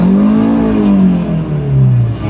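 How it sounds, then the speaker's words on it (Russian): A Kia Spectra's engine running and revving, a loud close steady drone whose pitch rises slightly, dips, then climbs again. "Двигатель работает ровно,"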